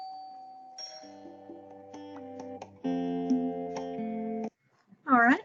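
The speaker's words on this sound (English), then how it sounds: "as the doorbell rang" A doorbell chimes in a series of clear electronic tones with sustained ringing notes, followed by a brief burst of speech.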